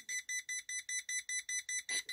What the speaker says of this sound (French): dès qu'il est de travers, ça bip